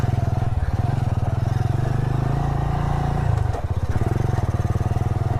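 A motorcycle climbs a steep hill slowly in first gear, its engine a loud, steady low thrumming chug close up with a brief dip midway, and a rider talks at times over it.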